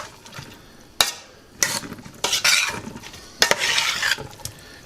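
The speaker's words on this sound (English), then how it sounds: "Pick it up from the bottom, big spoon like this, and mix it around like that." A big spoon stirs and scrapes a kedgeree-style dish of smoked chicken, egg and rice in a sizzling pan, with repeated bursts of scraping and soft sizzle between sharp clacks.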